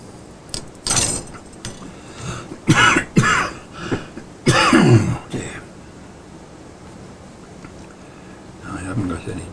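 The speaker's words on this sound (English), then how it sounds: "I've just got a cough, which I've had for a couple of years" A man coughs in several harsh, close bursts, with a throat-clearing catch among them, in a workshop while fretting a Stratocaster guitar; a softer cough trails off near the end.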